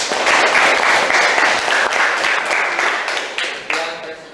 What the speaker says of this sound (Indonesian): Kita kasih aplaus dulu untuk kelompok 2.